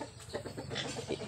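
A chicken clucks in short, repeated bursts close by, over a steady background hum.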